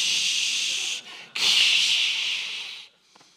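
A voice imitates roaring applause with a long breathy hissing tsh, broken by a brief pause and then resumed louder before trailing off, alone and close.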